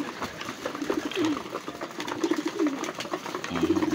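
Racing pigeons coo repeatedly at close range while feeding on red rice, their soft, rolling calls overlapping in a steady, moderately quiet stream.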